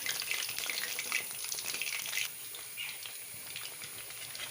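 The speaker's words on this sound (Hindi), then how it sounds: "अब इनको हल्की आंच पे फ्राई करेंगे।" Dal mash lentil dumplings fry in oil on low heat, giving a continuous close sizzle and crackle that eases slightly partway through, with no voices.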